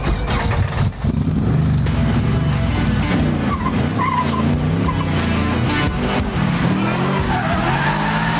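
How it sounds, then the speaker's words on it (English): A London taxi from the Kingsman films performs stunt driving at an aerodrome, its engine revving hard amid repeated loud tire squeals and skids over several seconds. "I'm about to do a stunt in the actual taxi from Kingsman in all the Kingsman movies"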